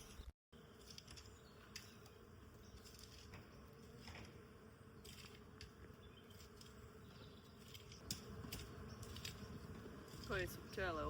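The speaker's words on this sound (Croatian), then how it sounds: "Koje su pčele ovdje?" Bees buzz steadily in a spring vegetable garden beside an old house, a continuous close drone that runs the whole time with a few louder swells and faint background rustle.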